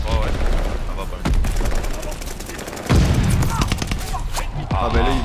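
Bursts of rapid gunfire crack and rattle in a Call of Duty multiplayer match, loud and close, with players talking over the shots.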